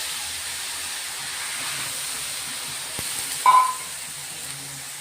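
Pigeon pea seeds roast on a griddle with a faint, steady hiss, a single sharp click partway through and a short clatter just after.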